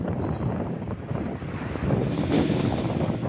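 Sea waves wash against the Stanley shoreline on the Alexandria corniche on a wintry day, a continuous roar of surf mixed with gusty wind buffeting the microphone, with no voices.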